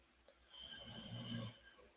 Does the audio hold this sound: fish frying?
no